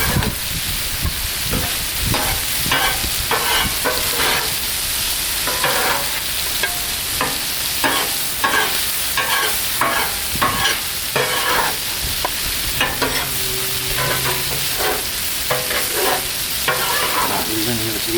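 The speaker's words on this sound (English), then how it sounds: "I'm going to go ahead and start mixing all of this with the sauce and the noodles" Noodles being stirred and tossed in a basil pistachio butter sauce on a hot Blackstone griddle, with steady close sizzling and frequent scraping, clacking utensil strokes throughout.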